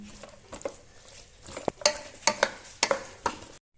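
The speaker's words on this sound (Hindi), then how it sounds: "अब हमने अपनी मटर को और अपनी ब्रोकली को अच्छे से अपने मसाले के अंदर मैश करना है।" Peas and broccoli being mashed into spice masala in a pan, a series of distinct scraping, tapping strokes of a utensil against the pan at a fairly regular pace, close and clear.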